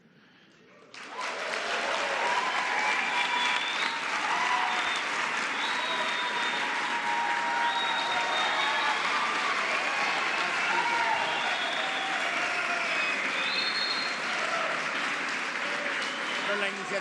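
A large crowd gives a long ovation for Mr. Bremer, sustained loud applause with cheering voices filling the space from start to finish.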